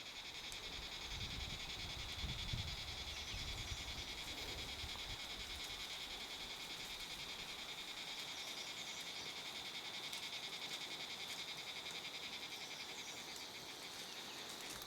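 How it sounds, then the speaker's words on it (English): Crickets buzz in a dense, steady drone through a jungle, with wind rustling low underneath; the insect chorus stays loud and unbroken from start to finish. "I keep quiet for a while to let you hear the sound of the jungle, the cricket, the buzzing of the cricket, and the sound of the wind"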